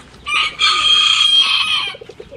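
A small rooster crows loudly and close by, one sustained crow of a bit over a second on a farm where ducks and other chickens are kept, followed by faint background sounds.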